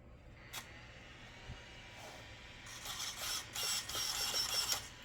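Steering servo on an RC car with a newly installed $50 ESC, giving several quick, clicky whirring bursts near the end, close by and fairly loud against a quiet background.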